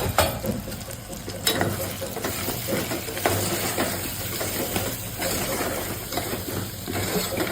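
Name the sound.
potatoes frying with spices in a pan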